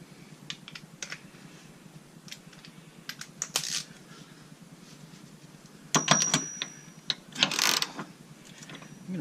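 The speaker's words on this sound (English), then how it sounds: "Might be easy enough for the manual ratchet at this point." A manual ratchet turns bolts while rock sliders are installed on a Jeep Wrangler JL. Quick bursts of rapid clicking stop and start, with louder runs of ratcheting near the end and no talking.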